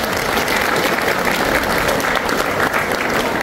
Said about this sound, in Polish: Brawa dla Państwa.